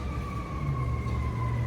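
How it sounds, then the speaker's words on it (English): An emergency vehicle siren wails on a street in Waco, Texas, near the McLennan County Courthouse, as a steady two-tone howl carrying over low traffic rumble for the whole moment. "Excuse the siren."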